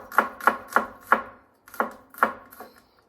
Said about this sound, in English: So I just take it in half and then just slice it pretty thin.